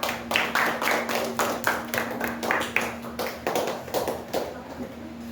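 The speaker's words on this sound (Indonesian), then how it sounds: "Coba tepuk tangan dulu untuk kelompok 4" A classroom group claps for a presenting team: a run of fairly sparse, close claps in uneven rhythm over a low steady hum, thinning out toward the end.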